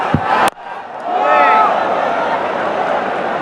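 Broad crowd roar swells and holds at a Mirpur cricket stadium during a Bangladesh vs Pakistan T20 match, preceded by a brief sharp knock, with no clear talk over it.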